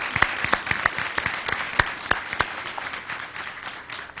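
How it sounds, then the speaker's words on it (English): Scattered audience claps at a Morehouse College event as a speaker comes to the stage, with sharp, distinct hand claps at an uneven pace over a soft room murmur, thinning out toward the end. "Give him a round of applause as he comes up."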